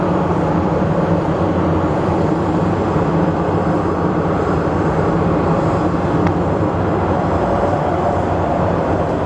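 Airliner departing from a runway at Phoenix Sky Harbor airport, a steady loud broadband jet engine roar that holds constant throughout without breaks or talk.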